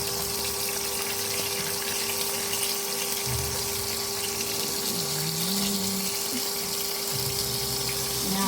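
Cut potatoes hit hot oil tempered with whole cumin seeds and sizzle steadily, a dense close-up frying hiss that stays loud throughout, with a faint voice murmuring underneath.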